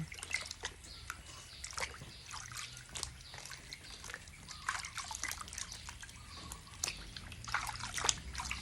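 Yellow bee mushrooms being washed by hand in water, with a steady trickling and sloshing of liquid and scattered small splashes and drips throughout, close and fairly quiet.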